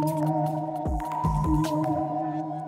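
A short synth phrase with sustained layered tones and a few downward-sweeping notes, played alone at moderate loudness.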